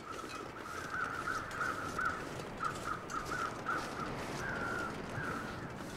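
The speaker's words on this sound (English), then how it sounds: "I'm assuming those crows are there specifically to draw your eye up there" Crows cawing in The Long Dark video game, a repeated series of harsh caws in uneven bursts, moderately distant over a steady wind-like background, with no talking.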